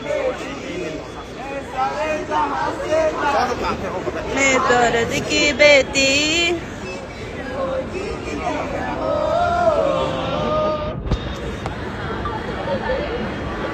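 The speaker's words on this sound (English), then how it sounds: "Let me show you guys the crowd" Crowd chatter at an outdoor gathering where flags are being held, with a steady babble of many voices and a nearby person talking over the noise throughout.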